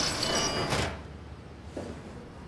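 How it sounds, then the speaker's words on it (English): A door opening in the video game SOMA, a loud hissing mechanical slide that cuts off abruptly after under a second, followed by a low ambient hum and a faint thud. "So just open up one of the doors."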